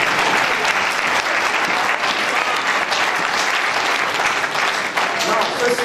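A church audience at an evening worship gathering cheers and applauds loudly for Jesus, dense continuous clapping mixed with crowd voices that holds steady and close throughout.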